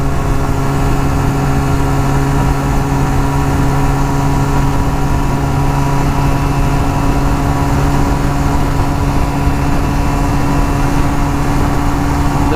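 A motorcycle in top gear at high speed with the rider tucked low, giving a loud, unbroken roar of engine and rushing wind that holds steady throughout with no voices.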